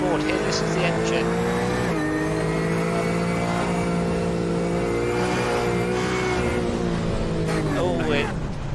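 A race car engine in the iRacing simulator roars loudly and steadily from onboard at Hockenheimring, its pitch rising and falling as the driver shifts and accelerates.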